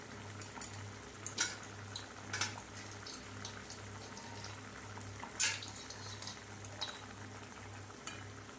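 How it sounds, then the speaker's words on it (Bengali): Fish curry gravy with fried fish pieces bubbling in a pan, a soft, steady simmer under occasional sharp clinks of a utensil against the pan and a low background hum, no talking. "ভেজে রাখা মাছগুলোকে ঝোলের মধ্যে দিয়ে মাছের সাথে ঝোলটাকে ভালো করে ফুটতে দেবো"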